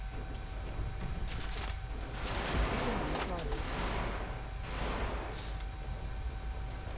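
Bursts of rapid gunfire crackle and boom over a steady mechanical drone, several volleys spread through the stretch.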